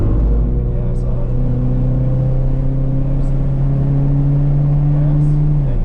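A Toyota GR86 race car accelerates on the H2R circuit, running clockwise. Its engine drones loud and close without a break, and the pitch climbs slowly as the revs build.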